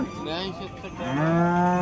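A buffalo at a livestock market lows loudly close by, one rising drawn-out moo over about two seconds with a faint murmur of people in the background.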